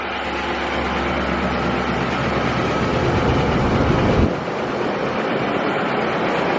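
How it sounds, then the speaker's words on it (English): A Nissan NV passenger van engine idles steadily with a low, rumbling drone and a knock, nearby and constant, then the tone shifts slightly partway through as the idle continues. "there is kind of a knock in the engine"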